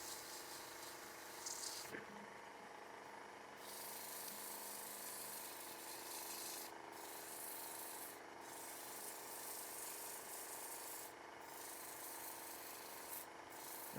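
Hand sanding with 180 grit sandpaper on the wooden bottom of a ring stand, where the chuck will go, giving a steady close rubbing hiss that runs almost unbroken with a few brief pauses.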